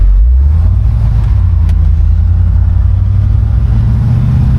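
A 1969 Buick Skylark convertible's engine pulls under throttle on the road, a loud, steady low drone that holds for the whole stretch with no voices.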